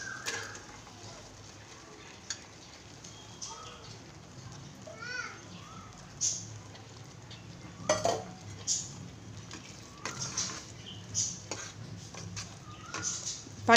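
Paneer cubes are tipped into a pan of masala over a low flame and stirred, with a soft steady sizzle under repeated spoon scrapes and clinks against the pan, and someone talking throughout.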